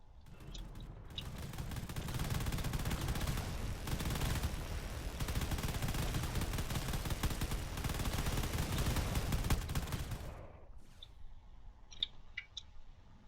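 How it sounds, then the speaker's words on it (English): Dense, sustained railgun fire rages through a Drone Wars space battle, a continuous roaring barrage lasting about ten seconds before cutting off, leaving scattered faint impacts and clicks. "Still quite a lot of railgun going around."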